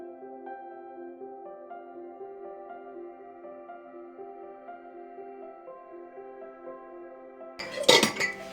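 A steady hum runs underneath, then near the end a brief, loud burst of glass clinking and knocking as freshly sterilized jars are picked up from a microwave.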